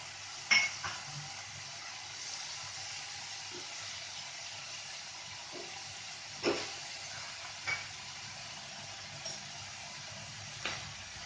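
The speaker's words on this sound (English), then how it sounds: "Now goes the noodles or zoodles, whatever you call it." Zucchini noodles sizzling in a hot pan, a steady frying hiss broken by a few light clinks and scrapes of stirring, close and moderately quiet with no talking.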